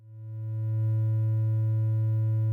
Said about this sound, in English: Triangle wave sounds somewhat higher, richer, and a bit louder